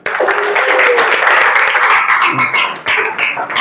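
An audience applauds at a school teaching-performance session, a dense, steady wash of clapping throughout with a brief voice or tone audible underneath near the start.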